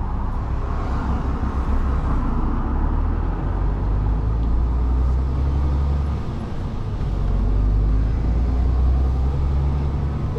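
Low steady engine rumble and road roar from a truck driving on the road, heard from inside the cab, continuous and fairly loud with slight swells in level and no talk.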